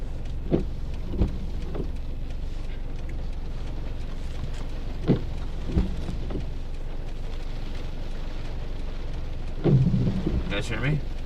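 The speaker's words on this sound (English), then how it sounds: "It's raining too hard." Heavy rain drums steadily on a car while it is driven through a storm, a dense wash of drops with a few louder thumps and a brief gust of spray near the end; no one speaks.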